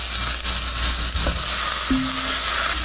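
Olive oil heats in a pan as the start of a white sauce for a large lasagna, with a steady, loud, close sizzling hiss and a brief utensil touch partway through.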